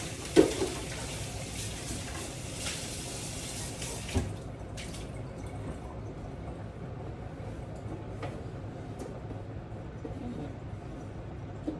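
A cereal container rinsed under a running kitchen faucet, steady water splashing close by for about four seconds before easing into a softer trickle, with faint bird coos in the background.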